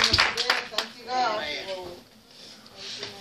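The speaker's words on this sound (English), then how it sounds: "hand clap." Quick hand claps ring out in a church at the very start, a short burst of sharp slaps that soon gives way to someone talking, with faint clapping returning near the end.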